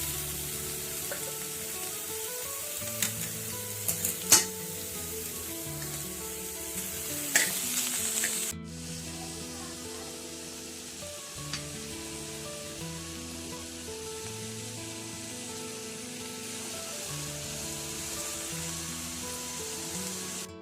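Crushed garlic and bitter gourd frying in a pan for an Andhra-style dish, a soft continuous sizzle with occasional clinks and stirring scrapes, close and fairly quiet, with a sudden shift in tone partway through.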